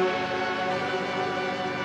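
Looped music sample in FL Studio with a shifted, altered pitch, playing steadily and fairly loud with dense sustained tones throughout.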